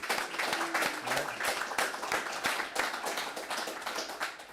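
A small graduation audience applauds a security specialist class, dense continuous clapping from many hands, fairly close, with a few sharper individual claps.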